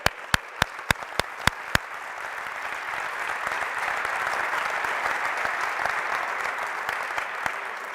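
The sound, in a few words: audience applause for basketball players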